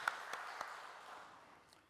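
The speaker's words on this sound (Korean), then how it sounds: "다시 한번 뜨거운 박수로 격려해 주시기 바랍니다" A church congregation at a Sunday service claps, a soft, dispersed patter of many hands that fades out over a couple of seconds.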